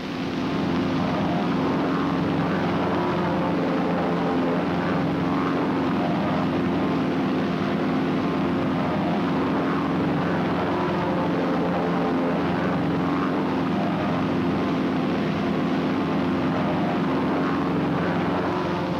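US Navy propeller aircraft flying in formation, recorded for a 1953 training film, make a steady, loud engine drone that holds unbroken for the full length with no voices over it.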